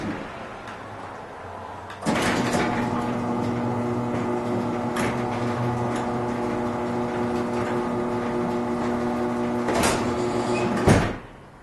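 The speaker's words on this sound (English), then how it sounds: "when the door comes down, if there's an obstruction at the floor" A low-overhead garage door driven by its automatic operator comes down onto an obstruction at the floor. A steady mechanical hum and drone runs for about nine seconds, with a clunk at the start and a sharp jolt near the end before it stops.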